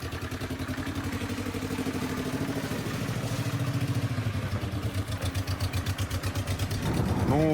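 A car engine cut down from four cylinders to two labors under hard throttle with a loud, steady, lumpy pulsing drone that rises slightly at the end.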